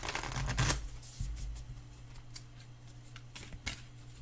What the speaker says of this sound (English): Let me really get these shuffled up.